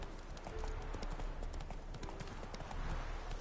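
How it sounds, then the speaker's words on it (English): A horse gallops in The Witcher 3 on PS4, its hooves beating a rapid, steady clip-clop rhythm close and loud throughout. "Run, Roach."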